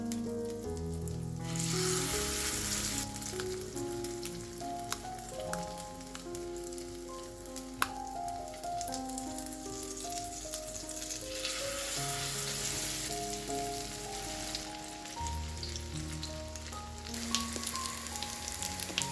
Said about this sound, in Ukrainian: Смажимо на середньому вогні е, з обох сторін до золотистої скоринки